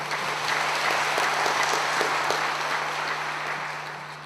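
Audience applause for a dignitary at a Kabarak University student gathering: steady, dense clapping from a large crowd, sustained throughout and tapering slightly at the end, with a low steady hum beneath.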